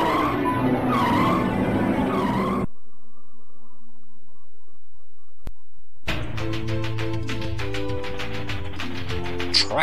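Racing car engine roar and tire skids from the Amiga driving game Wheels On Fire AGA, loud and dense, broken by a few seconds of quiet menu tones before the car sounds resume.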